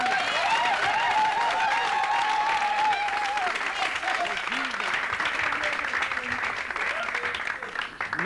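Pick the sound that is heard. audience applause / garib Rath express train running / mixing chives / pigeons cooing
audience applause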